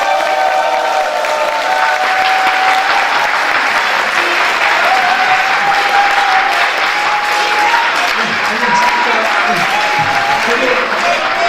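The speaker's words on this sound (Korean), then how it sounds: "모두 큰 박수로 맞아주시기 바랍니다." Sustained audience applause at a Korean veterans' association forum, steady and dense throughout as a speaker on international politics is welcomed, with a few voices and cheers faintly mixed in.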